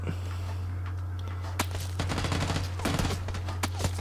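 PUBG gunfire, a string of sharp shots at moderate distance over a steady low hum, with a few louder cracks spaced irregularly and faint voices underneath.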